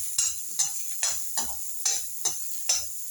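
Halved cashews fry in a hot pan of oil, stirred in regular strokes, with a bright sizzle that swells with each scrape of the spoon, close and loud, no voices.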